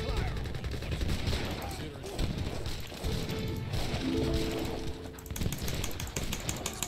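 Rapid overlapping gunfire from musket and rifle units in an Age of Empires III battle, dense bursts of cracks and volleys layered with clattering game effects and brief unit voice acknowledgements.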